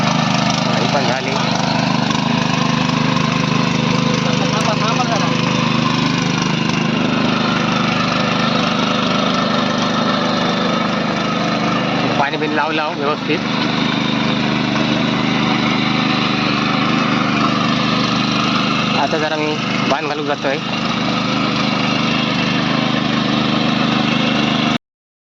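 Tractor engine running steadily in a muddy paddy field during rice transplanting, a loud continuous mid-low chugging drone close by, with someone talking over it.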